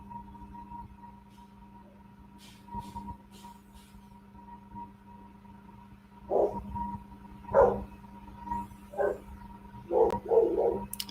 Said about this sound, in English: at least my dog joined in